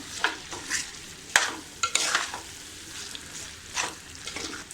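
Spoon scraping and stirring chicken keema with chili, coriander and garam masala powders in a pan, several distinct scrapes over a light sizzle of frying, close and clear.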